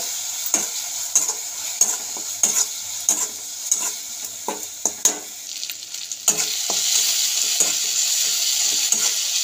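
Steady sizzling of ginger, garlic and green chilli paste frying in a pan, with repeated scraping stirs against the metal; the sizzle grows louder and denser toward the end.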